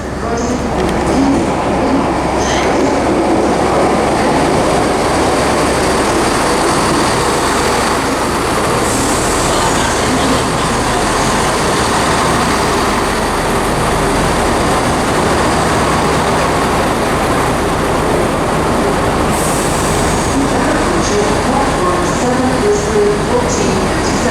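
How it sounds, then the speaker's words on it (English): A loud, continuous rumble of a Scotrail passenger train rolling into Aberdeen station, with wheel noise and occasional squeals, and someone speaking over it. "arriving now is the 1457 Scotrail service to Inverurie from Edinburgh"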